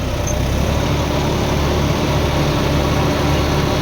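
John Deere 5210 and 5205 tractors run with rotavators attached, their diesel engines roaring loudly and steadily up close with a dense, continuous rumble throughout.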